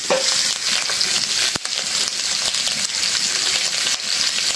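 Fish sizzling in hot oil in a pan, with a loud, dense, continuous frying hiss up close and a brief clatter near the middle.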